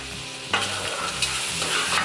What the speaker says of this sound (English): the last thing that we're gonna do is gonna be adding our peppers into the stove